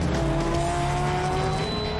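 GT race car engines roar at high revs at Oulton Park circuit in Cheshire, England, with a steady whining drone, loud and continuous throughout.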